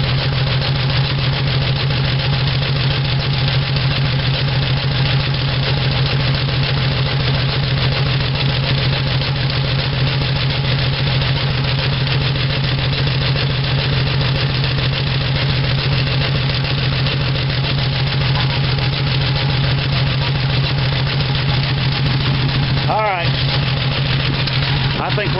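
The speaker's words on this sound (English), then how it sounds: "I can't hardly tell whether that's a exhaust leak or I hear a little lifter noise," A 1975 Dodge D100 pickup's slant six idles steadily throughout, a continuous loud low drone with a suspected exhaust leak and possible lifter noise, and no clear speech over it.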